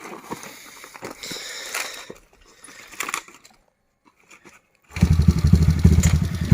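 A dirt bike at a Mae Hong Son cyclo-cross practice ride gives scattered mechanical clatter and a quiet pause, then its engine bursts into a loud, close, rough idle with throaty revs.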